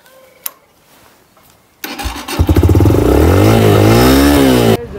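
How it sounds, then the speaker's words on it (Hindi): A motorcycle engine cranks and fires up after a quiet moment, then settles into a loud, steady close running note with a slight rise and fall, heard alone on a trip toward Devi Gali in Kashmir. "बाइक वाइक स्टार्ट करते हैं"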